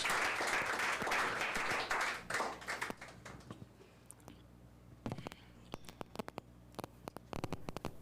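An audience at a French reading competition applauds, with dense clapping for about three seconds that thins into scattered, fading claps and a few late taps.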